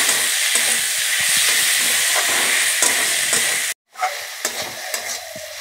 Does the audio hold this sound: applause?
no